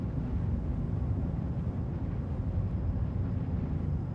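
Engine drone of the Argo Mole mining ship in Star Citizen, a constant deep rumble with a faint hissing layer, unchanging and fairly loud throughout, with no voices.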